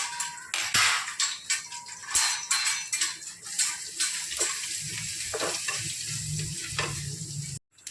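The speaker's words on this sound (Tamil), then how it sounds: "அதுக்கப்புறம் பூண்டு, இதெல்லாம் போட்டு வதக்கிக்கணும்." Garlic and dried red chillies sautéing in a clay pot, giving a steady loud sizzle with repeated scraping stir strokes, then a brief drop to silence near the end.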